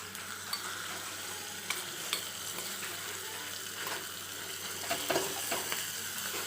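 Garlic paste and chopped hot green chili hit hot oil for a samosa filling. A steady close sizzle runs throughout under occasional clicks and scrapes of stirring, with no talking.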